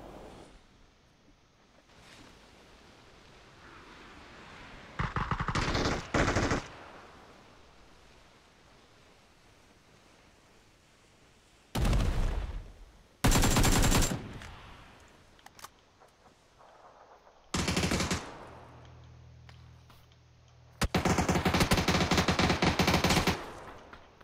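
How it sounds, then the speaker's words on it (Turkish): Gunfire in a PUBG squad match: several loud bursts of rapid automatic shots separated by quieter stretches of ambient game noise, with no voices. "Burada Ozan arkadaşımız yine birini vuruyor."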